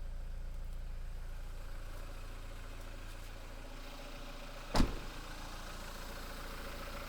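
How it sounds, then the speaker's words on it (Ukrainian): A 2020 Renault Trafic long-wheelbase passenger van with a 2.0 diesel engine (85 kW) idles steadily, a low even hum heard alone throughout, broken by one brief knock midway. "Слухаємо роботу мотора."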